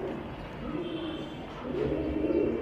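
Pigeons at a pigeon farm in Bangladesh housing Giribaz, racer, King and fancy breeds, with soft low cooing and bird calls running steadily over a busy background and some human voices.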